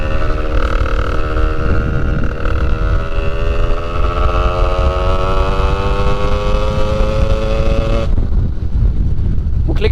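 A 70cc moped with a KRM 70/80 exhaust runs steadily up close, its buzzing two-stroke note rising through the gears, then dropping abruptly near the end with wind noise over it.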